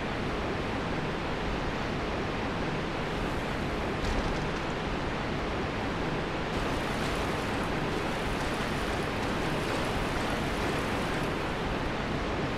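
A waterfall in the video game Dark Souls Remastered pours as a dense, constant rushing roar that stays even and loud throughout, with faint game sounds now and then.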